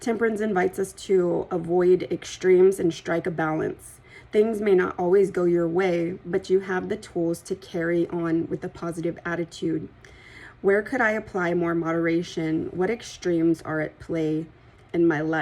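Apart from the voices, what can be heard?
No everyday noise stands out behind the speech.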